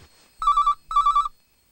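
A telephone rings twice in short, trilling electronic bursts, loud and close, with silence around them.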